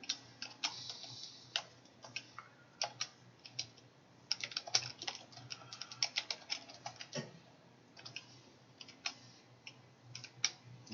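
Rapid typing of code on a computer keyboard, with dense irregular bursts of crisp key clicks and occasional heavier strokes, close and fairly quiet in a still room, with no talking.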